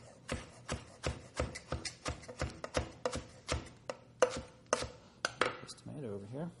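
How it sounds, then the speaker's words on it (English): Knife chopping through rolled-up romaine lettuce on a cutting board, a rapid run of about fifteen crisp, evenly spaced cuts, close and clear, ending with a brief softer rustle of leaves. "Just take it and roll it up, and then you can cut it very thin ribbons."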